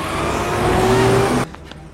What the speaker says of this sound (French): On se tasse sur le côté, la voiture passe.